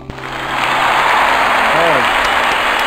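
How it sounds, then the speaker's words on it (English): A short canned applause effect plays in the Pajama Sam children's video game, a burst of crowd clapping that swells in and holds steady, with a brief voice sliding in partway through. "Oh, round of applause."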